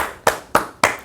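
Three sharp hand claps in an even rhythm, close and distinct with short decays between them, from a single person clapping rather than a full audience.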